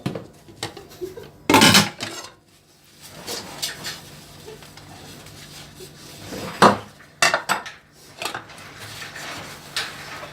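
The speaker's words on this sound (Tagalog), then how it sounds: "Ganyan po ang paglilinis ng plato sa turkey kapag you wash by hand" Plates being washed by hand with soap in a Turkish household: ceramic clattering and clinking of dishes and cutlery in irregular bursts, some loud knocks close by, with quieter scrubbing between.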